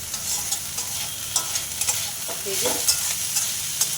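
Potatoes and drumstick flowers fry in a little oil in a pan, giving a soft, steady sizzle broken by occasional scraping stirs. A voice briefly speaks a couple of words.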